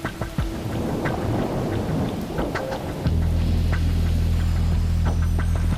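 Heavy rain pours steadily onto surfaces while thunder rumbles deep and loud, and a low, droning hum takes over partway through under the continuing downpour.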